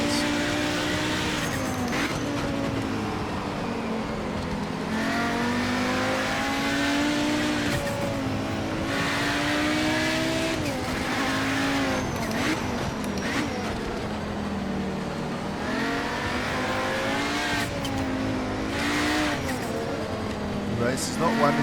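A race car in the Project Motor Racing sim revs and shifts through gears, its engine note rising and falling repeatedly with tire noise, close and continuous, while a voice talks over it.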